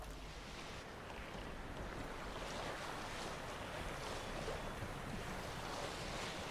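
A boat sailing down a river in The Witcher 3 video game, a steady wash of water and waves with wind rushing across, constant and fairly soft throughout with no voices.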